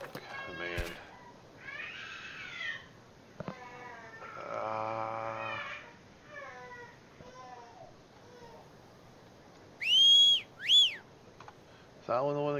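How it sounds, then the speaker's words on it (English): An in-game whistle from the video game Dark and Light sounds as two loud, shrill, rising whistle blasts back to back near the end, following assorted creature calls and game noises. "Actually, what is that whistle?"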